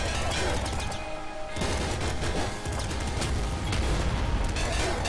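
Dense, continuous machine gun fire in a video game, loud and relentless, with a voice talking over it.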